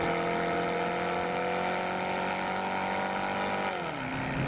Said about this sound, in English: What's great about the SS is the engine note.